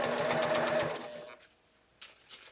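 Sewing machine stitching a zippered cosmetic bag, a fast steady needle chatter close by for about a second, then slowing and stopping, followed by a brief restart.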